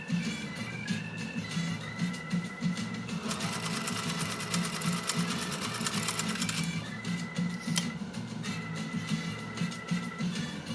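A 1930s GE Model A sewing machine stitches at a very short stitch length, with a steady mechanical whirr that swells louder and busier through the middle before easing back, heard alone at close range.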